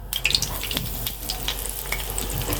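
Breaded chicken pieces drop into hot oil and fry with a bright, continuous crackling sizzle, close and fairly loud, with a few sharper pops and spatters.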